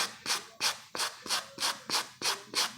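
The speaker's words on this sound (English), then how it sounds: "So I'll just take that brush, and where that grime is, I'll basically brush the hat" A brush rubs grime off a felt hat in eight steady, evenly spaced strokes, close and clear, each a soft raspy swish with no talking.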